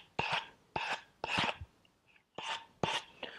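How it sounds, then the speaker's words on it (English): Sandpaper is rubbed on the sharp edges of a wooden chair leg to round them over. Five or six short, close, raspy strokes come in an uneven rhythm and fairly quietly, with no speech. "sand and round this off"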